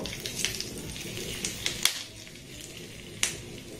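Hot tarka with curry leaves poured into a chutney gives short crackling sizzle bursts over a faint steady hiss, fairly quiet and close, with no voices.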